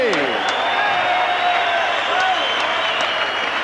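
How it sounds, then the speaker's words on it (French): Crowd applause for two boxers after a bout ends, a continuous wash of clapping from a large audience with some faint cheering, a voice talking over it. "Bonne main d'applaudissements pour ces deux guerriers."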